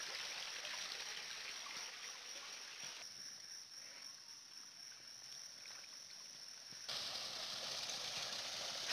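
A stream of water runs steadily beside village fields and houses, a soft continuous rush and trickle heard close by and alone, growing a little louder toward the end.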